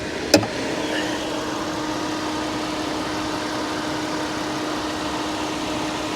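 A 2013 Cadillac engine idles with the hood open, giving a steady, smooth mid-pitched hum close by. A brief sharp click sounds at the very start.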